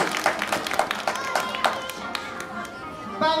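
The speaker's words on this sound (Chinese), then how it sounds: "掌声鼓励。" An audience applauds at a children's graduation ceremony, with dense, rapid clapping nearby that runs throughout and thins slightly toward the end, while a voice is faintly heard underneath.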